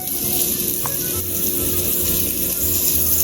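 Meat sears and fries in a hot pan, a dense, steady sizzle with crackling pops from close by, continuous throughout with no speech.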